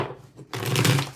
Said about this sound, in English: Let's get 6 shuffles here for this one.